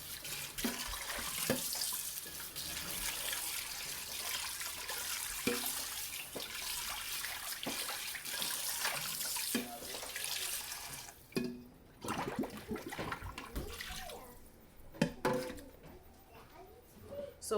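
Tap water runs steadily into a kitchen sink, a close, continuous hiss and splash that breaks into shorter gushes and drips toward the end as the flow shifts.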